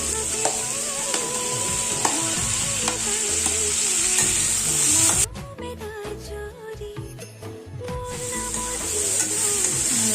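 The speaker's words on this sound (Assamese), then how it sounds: "বিলাহীখিনিও একেলগে অকণমান ভাজি ল'ম" Tomatoes and onions sizzling loudly in a pan with spatula scrapes; midway the hiss briefly drops away during stirring, then returns strongly.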